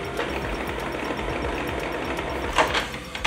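A Canon PIXMA G-series inkjet printer begins its initial setup after plain paper is loaded in the rear tray, giving a steady mechanical whirring with rhythmic motor ticks and a couple of louder clunks near the end.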